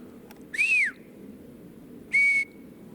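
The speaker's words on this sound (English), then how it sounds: "I would love to see your video of you whistling to the forest." Two clear whistled notes from a person whistling in a forest, the first sliding up then down, the second a steady held tone, ringing out alone in a quiet outdoor space.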